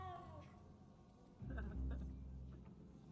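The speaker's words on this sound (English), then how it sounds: "Kitty cat." A cat in the video game Hogwarts Legacy gives a short meow, followed by louder low-pitched game ambience and a voice talking nearby.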